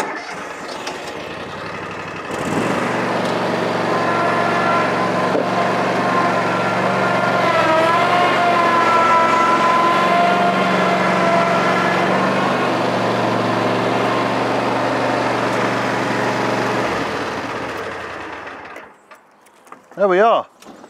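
Cub Cadet XZ7 zero-turn ride-on mower driven onto a trailer, its engine humming loud and steady for about fifteen seconds, swelling slightly mid-run, then shutting off, followed by a brief clunk.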